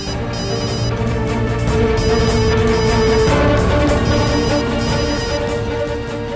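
A steady electronic ringtone melody plays continuously and fairly loudly, repeating its tune without pause and with no voices over it.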